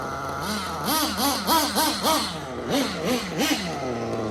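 Small HB nitro RC truggy engine running at close range, a high buzzing idle that repeatedly swells in short throttle blips before settling, with no talk over it.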